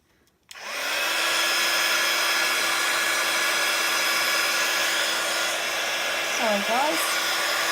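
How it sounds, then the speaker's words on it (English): A heat gun switches on and blows with a loud, steady whooshing roar that continues throughout, with a voice speaking briefly over it. "Okay, the heat gun's going on."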